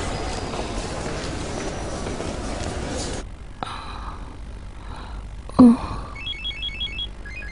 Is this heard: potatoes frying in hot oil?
no